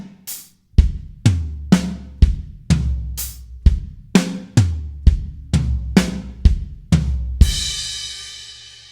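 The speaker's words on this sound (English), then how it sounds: "So that fill played slow all together would sound like this." A drum kit linear fill played slowly: a steady run of about fourteen separate strikes mixing snare, toms and kick at an even pulse, ending on a crash cymbal that washes out and fades.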